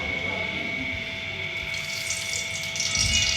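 Water poured into a wok to boil spinach for aloo palak, a steady rushing pour with a constant running-water hiss, close and continuous, growing slightly fuller toward the end.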